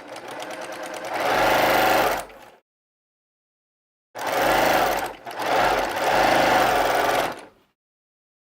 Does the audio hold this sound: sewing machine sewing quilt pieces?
yes